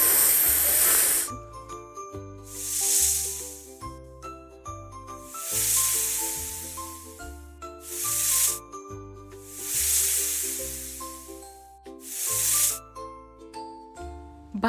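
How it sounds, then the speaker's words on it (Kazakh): A snake hissing in about five loud, airy bursts that rise and fade in a regular pattern over a soft, tinkling children's tune. "Жылан ысылдайды."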